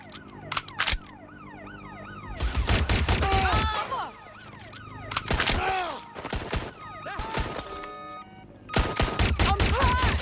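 Video game gunfire erupts in several loud rapid bursts during a police-style shootout, mixed with wailing, sweeping sirens and short gaps between volleys.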